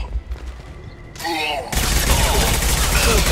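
Gunfire from the Mass Effect 2 video game: a burst of shots and combat noise erupts partway through, loud and dense, continuing steadily after a quieter opening.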